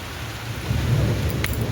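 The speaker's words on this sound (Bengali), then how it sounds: "এত ঝড় হচ্ছে শুনে মানে উঠলাম" Heavy rain hisses steadily while a low rumble of thunder swells in the middle, loud and close, with no voices.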